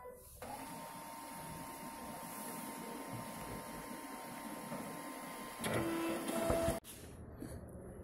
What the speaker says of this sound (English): Now you have to power on the printer.